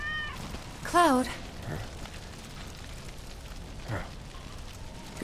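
A cat in Final Fantasy VII Remake gives one clear, rising meow near the start, close and loud over a low background rumble of game ambience, with a faint further cry later.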